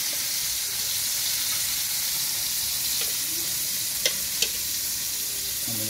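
Fish fries in a hot pan with a steady, close sizzle and a couple of faint clicks from a utensil, with no talk.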